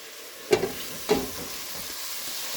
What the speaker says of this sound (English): Give the veggies a stir.